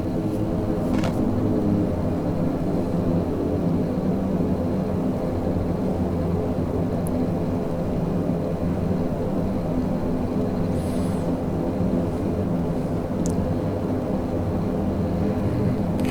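A DASH7 turboprop in Microsoft Flight Simulator 2020 rolls for takeoff, a steady loud engine roar and rumble holding throughout without talk.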